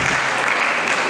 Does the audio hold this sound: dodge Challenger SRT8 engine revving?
no